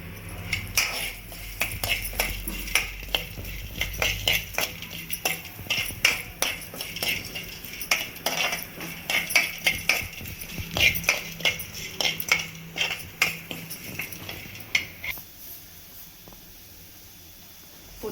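Cardamom and cumin being roasted in a pan for bisibelebath powder, with rapid metallic scraping and clinking of a spoon against the pan in a busy, irregular rhythm, close and continuous, fading near the end.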